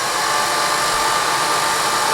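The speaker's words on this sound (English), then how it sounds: "And I'm going to blow dry again." A hair dryer blows steadily on metallic gold watercolor paint, giving a loud, constant close-up whoosh and whir with no talk.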